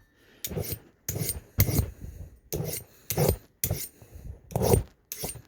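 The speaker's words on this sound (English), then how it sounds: "you'll really be able to see how I'm kind of holding the file at sort of a 45" A steel file sharpening the three blades of a cutthroat mower section, held at about a 45-degree angle, gives eight separate rasping strokes in a steady rhythm, close and fairly loud, with short silences between strokes.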